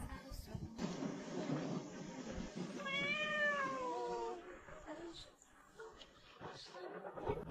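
A sick, nearly dying kitten gives one thin, wavering meow in the middle of the stretch. It is faint and sits among low background noise and scattered voices.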